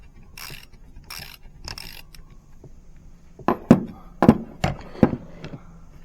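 Metal bolts being backed out of the bearing caps on a Nissan R50 Pathfinder H233B limited-slip rear differential: a few soft ratcheting passes, then a series of sharp, close metallic clinks and taps, loud against a quiet background.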